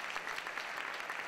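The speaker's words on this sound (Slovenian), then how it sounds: "Gremo še za njo en aplavz." Audience applause following a children's choir performance with piano accompaniment, a steady dense wash of clapping from a crowd with no voices standing out.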